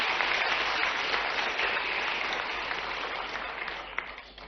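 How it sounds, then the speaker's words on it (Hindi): Loud applause from an audience at a ceremony honouring selected civil-service exam candidates, dense continuous clapping that gradually thins out by the end. "जोरदार तालियां अक्षत के लिए भी।"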